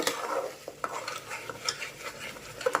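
Chicken curry with curd being stirred in a pan over a lowered flame, soft scraping and gentle clinks of the spoon against the pan at an unhurried, irregular pace, fairly quiet and without speech.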